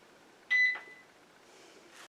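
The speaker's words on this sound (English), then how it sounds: "it's beeping and let me know it's through" A short electronic beep from a Magical Butter Machine at the end of a lemon balm lotion cycle sounds once, clear and close, followed by a faint hum and a brief click at the end.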